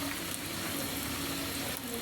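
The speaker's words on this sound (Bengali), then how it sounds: "এখানে দিয়ে দিচ্ছি হালকা করে আদার বাটা" Ginger paste added to hot oil in a pan, a steady, close, hissing sizzle that holds without break for two seconds.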